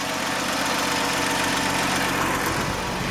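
A 1963 Ford Falcon Futura's 170 cubic-inch six-cylinder engine with fresh spark plugs idles steadily and loudly nearby, a continuous low rumble with a faint vibrating knock, and no talk over it.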